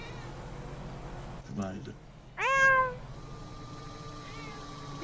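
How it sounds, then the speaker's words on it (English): A cat meows twice nearby, a shorter call followed by a louder, drawn-out one, with a faint third meow trailing off, while people talk over a low background hum. "We got a cat here."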